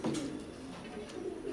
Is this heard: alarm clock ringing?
no